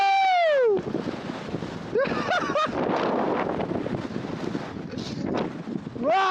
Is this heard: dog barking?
no